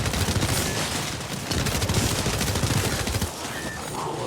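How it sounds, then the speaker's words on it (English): Laser weapon firing in a video game, a continuous dense stream of rapid crackling shots, loud and steady, with a brief dip midway. "I'm a firing my laser."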